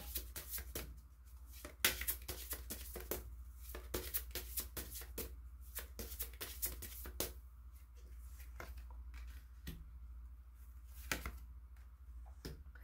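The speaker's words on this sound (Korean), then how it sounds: "그럼 조언점 카드 뽑아보도록 할게요" Tarot cards are shuffled and drawn during a couple's love-fortune reading: soft, papery taps, riffles and snaps come close and quiet in irregular bursts, with no talking.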